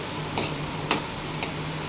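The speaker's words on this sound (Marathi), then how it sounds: "कांदा चांगला लाल करून घ्यायचा आहे" Chopped onion, green chilli and garlic frying in oil in a pan, a steady low sizzle with three light spoon taps as it is stirred, quiet and close with no talking.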